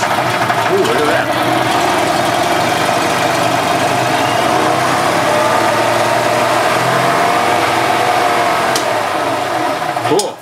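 A 2007 EZGO TXT gas golf cart engine fires up and runs steadily, a loud continuous motor drone close by that holds throughout, with voices heard over it.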